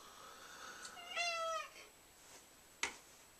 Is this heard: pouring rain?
no